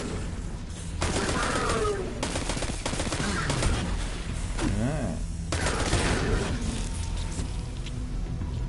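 Gunfire in the shooter Destiny 2: steady, rapid bursts of shots and booms under a continuous loud game soundscape, with no voices.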